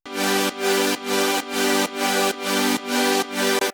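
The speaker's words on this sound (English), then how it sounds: "I just added some pianos as well, quiet in the background." Sustained piano and synth chords pulse in even, repeated bursts about every half second, full and steady with no voices.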